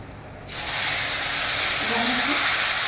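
Spice paste hits hot oil in a pan beside a bay leaf while cooking green banana kofta curry, setting off a sudden loud sizzle that holds as a steady, strong hiss.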